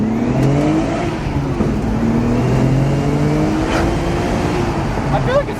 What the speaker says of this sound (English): It feels like a pretty healthy engine